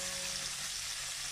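Tuna frying in oil for sarsyadong tuna, a dense, even hiss of sizzling oil that runs unbroken and fairly quiet throughout.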